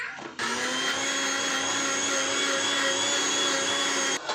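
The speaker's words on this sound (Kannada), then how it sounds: "ಈಗ ಅದನ್ನು ಮತ್ತೆ ರುಬ್ತಾ ಇದ್ದೀವಿ." A mixer grinder whirs loudly and steadily, grinding wet masala for chicken sambhar. The motor starts abruptly, holds one continuous high whine for about four seconds, then cuts off. No one speaks.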